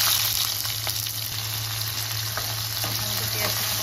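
Onions fry in a pan while chilli chicken is cooked at home, giving a constant dense sizzle with light stirring clicks, close and continuous, with no clear speech.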